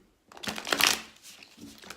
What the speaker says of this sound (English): I will shuffle the deck a little bit more for Virgo